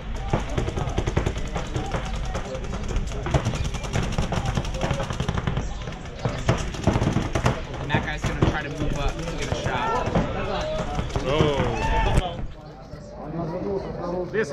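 Paintball markers fire in rapid, continuous volleys at an NXL professional paintball match in Paris, loud and close amid crowd noise, with a voice commenting over the shooting.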